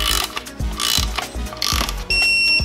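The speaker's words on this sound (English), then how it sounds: "I think it's a 12 millimeter 12 point, Jaden." A 12 mm 12-point socket on a ratchet wrench working a bolt on an engine, rapid loud close clicking of the pawl in quick bursts, with a tonal ring entering near the end.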